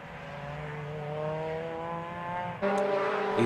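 Mazda MX-5 SuperCup race cars sweep past on the Anglesey circuit, a steady sustained engine drone with shifting pitch before a sharper, louder car bursts through close by near the end.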